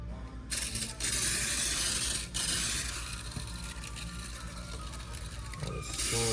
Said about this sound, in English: we're gonna go ahead and spray everything down